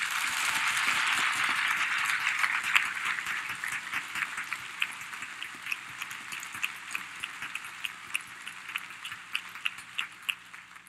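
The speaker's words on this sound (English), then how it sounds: "Please help me show appreciation with a round of applause." An audience at a college inauguration gives a round of applause that swells at first and then thins out into scattered separate claps as it fades, heard from a moderate distance with no voices.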